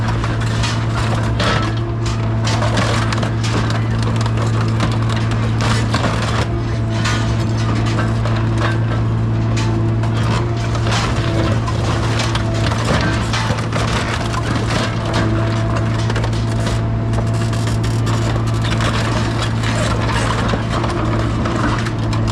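A minivan is slowly crushed flat beneath a huge steel plate, a loud steady mechanical drone with deep hum carrying constant splintering, cracking and creaking of collapsing body panels and glass throughout.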